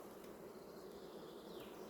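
Honeybees hum in a steady, dense drone during a hive inspection in a forest-forage colony, faint and continuous, without voices.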